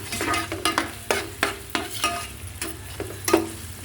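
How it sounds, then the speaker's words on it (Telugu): Onions frying in hot oil while being stirred, with repeated scraping stir strokes over a steady sizzle, close and moderately loud, no talking. "ఆయిల్ వేడైంది, ఉల్లిపాయలు వేస్తాను. ఉల్లిపాయలు బాగా వేగుతున్నాయి."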